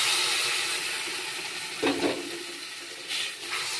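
Hot water poured into masala frying in a pan gives a soft, steady sizzle and steam hiss, with two brief louder bursts of spattering partway through and no talking.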